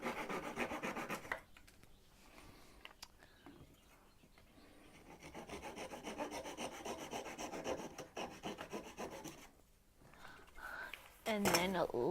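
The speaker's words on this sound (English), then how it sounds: "Just a very flat saw that I'll just be able to cut it off." A very flat hand saw cuts through wood while making a wooden toy tractor, close rasping strokes in uneven bursts with quieter stretches between, alongside a faint background voice.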